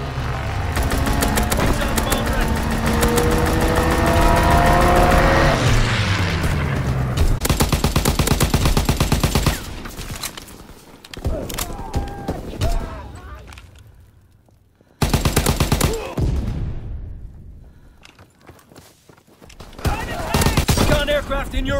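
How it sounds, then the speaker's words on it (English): Attack aircraft strafing in a video game: long, dense bursts of rapid machine-gun fire, loud and close, broken by short pauses, with engine roar sweeping past and a voice speaking over the battle. "Strafing run inbound."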